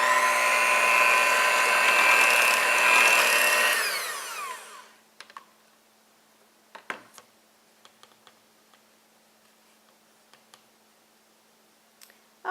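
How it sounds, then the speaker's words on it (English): An electric hand mixer whirs loudly through wet ingredients for leftover-turkey baking, then cuts out and is followed by a few scattered clicks and taps in near silence. "we're going to mix that up well with our mixer."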